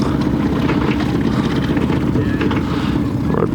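Steady low marine engine and thruster drone aboard the sailing boat Mingulay, a continuous dense rumble with wind buffeting the microphone throughout.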